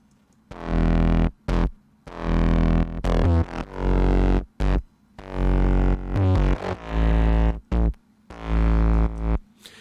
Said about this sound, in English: You see, like that's just distorted.